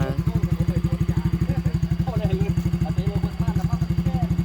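A vehicle engine runs while driving, making a steady, rapid putter that stays loud and even throughout. Voices talk lightly over it.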